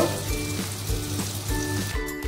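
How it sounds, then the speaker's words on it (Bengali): Lentil dhoka cakes frying in mustard oil, a soft, brief sizzle with light crackles over a steady background hum. "এই ধোকাগুলো সর্ষের তেলেই ভাজবো।"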